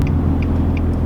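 A tuned naturally aspirated Nissan 350Z idles cold while warming up on a rainy day, giving a steady, close low rumble with a few faint, regularly spaced high chirps above it.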